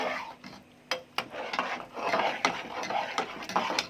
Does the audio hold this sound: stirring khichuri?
yes